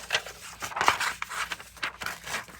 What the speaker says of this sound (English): absolutely love the feel and the sound of brown paper